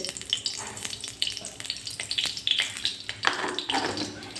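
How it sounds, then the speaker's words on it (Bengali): Mustard seeds fry in hot oil in a kadai for tempering a tomato chutney, a close crackling sizzle with irregular sharp pops and spatters bursting out over the steady hiss. "সর্ষেটা একটু ভাজা হয়ে আসুন"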